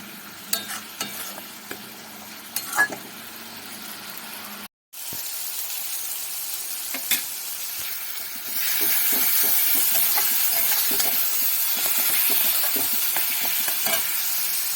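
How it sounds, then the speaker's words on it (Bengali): Green chilli and garlic paste is stir-fried in a pan for rohu fish kalia. A continuous sizzle runs under irregular spoon scrapes, swelling louder and hissier in the second half after a brief dropout. "এগুলো দিয়ে আবার একটু নাড়াচাড়া করে ভালো করে একটু কষিয়ে নিই"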